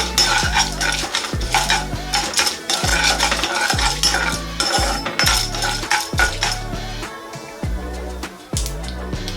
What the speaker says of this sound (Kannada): 1 ಸ್ಪೂನು ಕಡಲೆಬೇಳೆ, 1 ಸ್ಪೂನು ಉದ್ದಿನಬೇಳೆ. ಇದನ್ನೆಲ್ಲನೂ ಇದೇ ರೀತಿ ಎಣ್ಣೆನಲ್ಲೇ ಹುರ್ಕೋಬೇಕು.